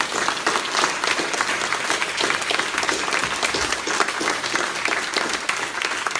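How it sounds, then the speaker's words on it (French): Audience at a public campaign meeting in Tourlaville, Cherbourg-en-Cotentin, applauds steadily for several seconds, a dense, sustained clapping from a large indoor crowd with no one speaking over it. "On peut l'applaudir encore une fois."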